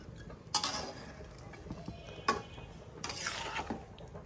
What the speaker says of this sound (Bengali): এখন আমি এই স্কিনগুলো নেড়ে চেড়ে ভালো করে কষিয়ে নিচ্ছি।